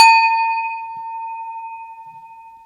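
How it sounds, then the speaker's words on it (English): A single bell struck once on a tabletop, ringing out clear and bright with a long, slowly fading sustained tone and no talking. "I'm just going to ring this bell to clear a bit more energy from the table."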